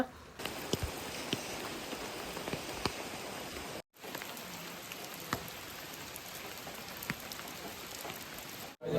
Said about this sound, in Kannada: ಸಿಕ್ಕಾಪಟ್ಟೆ ಮಳೆ